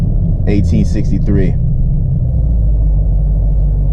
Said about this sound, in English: Now watch the downshift.